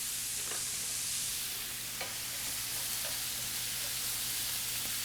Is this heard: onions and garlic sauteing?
yes